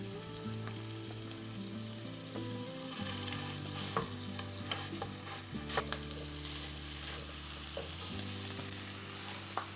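Polish cutlets frying in a hot pan, giving a steady close sizzle with scattered crackles and pops, plus a low hum that shifts in steps from the stove or room.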